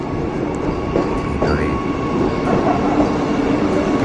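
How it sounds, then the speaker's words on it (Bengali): A Vande Bharat train arriving at Bolpur station rumbles steadily close by with a continuous heavy roar, faint rhythmic wheel clatter and a brief high metallic squeal. "একদম সঠিক সময়ে বন্দে ভারত বোলপুর স্টেশনে ঢুকছে"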